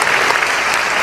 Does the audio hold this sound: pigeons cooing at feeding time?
no